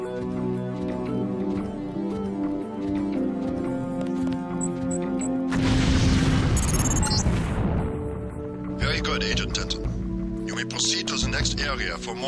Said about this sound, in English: If you aren't close enough, the lamp will fall to the ground and detonate.